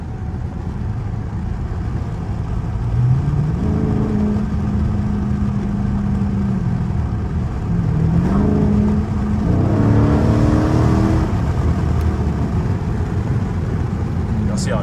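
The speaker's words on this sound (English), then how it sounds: "y'all want to know the exhaust, it's just a mid-muffler elite right now" A Dodge Charger Scat Pack with a mid-muffler delete idles with a deep drone, then revs up twice in rising pulls that settle back, heard from inside the car on a dark back road.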